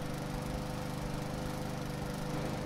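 A ride-on lawn mower running in the video game Hausmeister, giving off a continuous, even engine drone with a rough low-end chug at a moderate, steady level.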